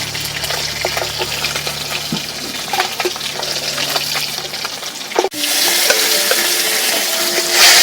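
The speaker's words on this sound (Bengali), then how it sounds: "মাছগুলো ভাজা হয়ে গেছে, তুলে নেব।" Tilapia fish frying in hot oil give a close, crackling sizzle for about five seconds, then the sound cuts abruptly to a smoother, steadier hiss.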